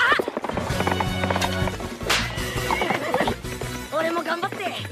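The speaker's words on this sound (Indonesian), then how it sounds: "Akibat kuda yang melaju begitu cepat," Horse racing fast in Naruto the Movie: Ninja Clash in the Land of Snow, with loud neighing and whinnying over hoofbeats and dramatic score, busy and close with dense layered sound.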